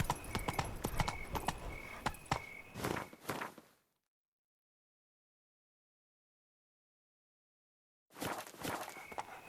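Roach, a horse in The Witcher 3, clip-clops steadily and close for about four seconds, goes fully silent for several seconds, then the hooves start again.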